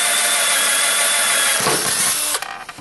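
Power drill boring through aluminum, a loud, close, high-pitched whine that holds steady, roughens as the bit bites through the metal, then cuts off abruptly near the end.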